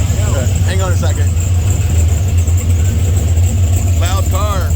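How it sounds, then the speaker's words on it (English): A loud car idles with a deep, steady rumble at an outdoor car show, with brief bits of nearby talk heard over the engine. "Loud car."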